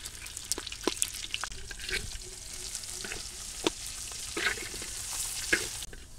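Chopped onion and garlic frying in hot oil for a village-style lentil tempering, a steady crackling sizzle with scattered sharp pops and the occasional stir, close and fairly even throughout.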